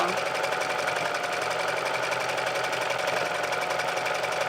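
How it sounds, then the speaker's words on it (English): An electric sewing machine runs steadily as it stitches up the back seam of a pillowcase dress, a close, continuous whirring motor hum with a fine rapid needle chatter that holds an even level throughout. "So I'm going to sew up the back of the dress."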